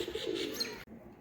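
Pigeons softly cooing on a rooftop, a low murmuring coo heard faintly at a distance before the sound cuts off abruptly.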